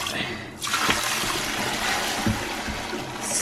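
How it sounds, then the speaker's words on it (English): Dirty water from a mop bucket is poured out in a sudden gush that settles into a steady splashing stream, fairly close, with a few thumps of the bucket. "I'm gonna go ahead and dump this water to see what it looks like"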